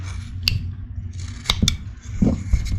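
A carving knife makes short, crisp chip cuts into wood while shaping a carved face, giving a few sharp close-up snicks and scrapes with quiet pauses between them.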